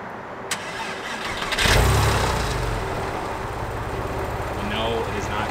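Porsche 996 with a Sixty61 muffler bypass starting up, a short cranking followed by the engine catching into a loud, deep, steady idle, close by, with people talking over it.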